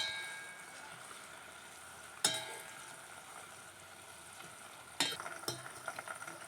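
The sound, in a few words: heating and stirring hair oil with curry leaves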